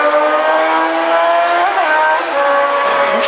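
A neighbour's motorbike riding past, a steady loud engine drone with a brief rise in pitch as it goes by, close and continuous with no talk.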